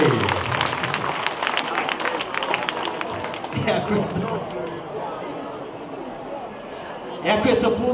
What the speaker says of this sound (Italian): Un applauso al nostro Oreste.